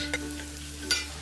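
Diagonally cut green chillies and ginger sauté in a pan for chilli chicken, a steady close sizzle with a soft hum beneath and two or three quick scraping stirs of a spoon.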